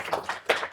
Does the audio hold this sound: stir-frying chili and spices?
no